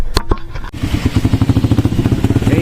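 A motorcycle engine idles and putters steadily up close near Tondol Beach, its rapid pulsing beat carrying on after a couple of sharp knocks and clatters at the start, with no talking.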